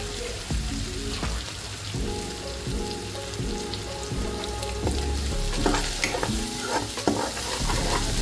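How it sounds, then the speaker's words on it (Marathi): Green chillies and curry leaves frying in hot oil in a pan, a steady close sizzle and crackle with occasional stirring clinks, no voices. "लगेचच आपल्याला हिरवी मिरची घालायची आहे आणि तेलामध्ये तळून घ्यायची"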